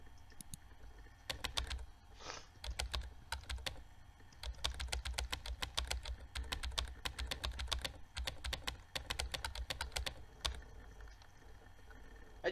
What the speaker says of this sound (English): I just have to keep clicking on the same key constantly.